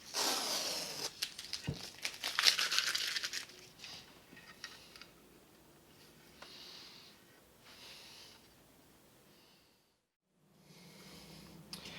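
Masking tape is peeled off the body of a 1973 Fender Telecaster during a restoration, giving close crinkling, tearing and rustling that is busiest at the start and then thins to sparse, faint handling sounds.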